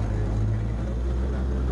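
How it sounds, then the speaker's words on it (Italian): Steady, loud machinery drone at a well rescue site, a continuous heavy engine rumble filling the scene without pause. "Senti questa macchina, non ti preoccupare il rumore che senti."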